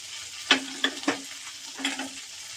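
Cumin powder hitting hot oil in a frying pan on low heat, a soft steady sizzle broken by a few sharp scrapes and stirs, close and alone.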